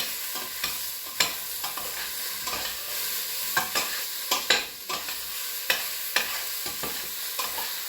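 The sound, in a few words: meat and vegetables sizzling in a pot for chili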